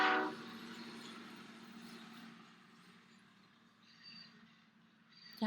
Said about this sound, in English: So the sound of a train is definitely a big one.